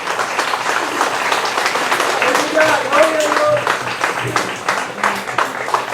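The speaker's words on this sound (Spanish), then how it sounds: "Dale palmas al Rey." Church congregation clapping for the King during a Spanish-language service, a brisk continuous patter of many hands with voices singing and calling over it.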